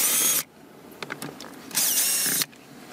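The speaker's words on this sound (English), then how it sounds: "Using a Phillips head screwdriver, carefully remove the two screws." A power screwdriver whirs through two long bursts, removing screws from a 2014-2019 GM truck jumpseat, with quieter clicks and handling noises between them, loud and close.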